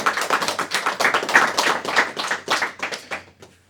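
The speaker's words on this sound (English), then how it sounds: "Let's give her another big round of applause." A small audience claps after a talk, with sharp, uneven hand claps at close range that stay dense for about three seconds and then thin out and stop.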